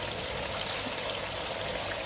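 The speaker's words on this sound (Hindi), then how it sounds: "लाल लोबिया ऐड कर दूंगी और इसे अच्छी तरह भूनूंगी।" Red kidney beans for Punjabi rajma pour into a pan of spiced masala with yogurt and lemon juice, giving a dense, steady, close patter and hiss of wet beans for two seconds with no talk.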